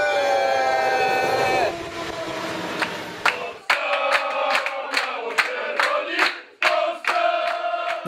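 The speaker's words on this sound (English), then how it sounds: "I love this train, it's like one of the old football specials." A train packed with Polish football fans, like an old football special, rumbles loudly at first, then gives way to sharp rhythmic clacks and knocks, with a crowd murmuring underneath.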